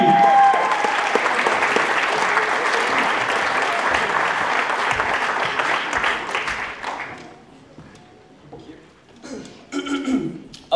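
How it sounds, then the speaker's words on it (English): An audience at a radio awards ceremony applauds a station manager, clapping loudly and densely for several seconds before it dies away, followed by scattered voices and a few brief noises. "Give a round of applause to Adam Finney!"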